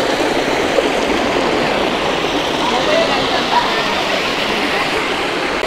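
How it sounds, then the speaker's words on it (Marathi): River water at Lamghati rushes steadily in a constant broadband roar near a waterfall, unbroken and fairly close throughout. "इथे पाणी सुरू राहतं. आणि बाजूला ही नदी."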